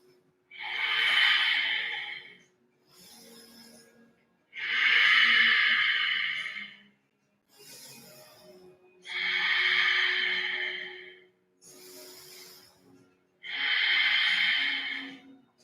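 Slow, steady yoga breathing during a seated twist in a vinyasa flow, with four long, loud exhales alternating with shorter, softer inhales in an even rhythm, close to the mic with no talking.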